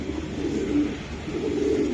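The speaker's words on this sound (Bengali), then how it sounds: "এই যে আরেকটা কবুতর আমি দেখাই দিলাম" Racing pigeons from a club auction coo in a low, steady murmur, a continuous soft warble that swells slightly and carries on for about two seconds with no talk.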